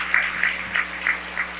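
Light applause from a gala audience, a steady wash of hand claps with periodic swells over a low steady room hum, fairly quiet and brief, no voices.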